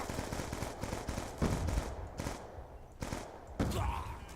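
Rapid gunfire from the video game Black Ops 2 fires in several bursts of shots, loud and close, with brief gaps between volleys.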